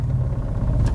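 A manual car judders as its clutch engages uphill without enough revs, a loud, steady low rumble that carries through the whole second with no speech.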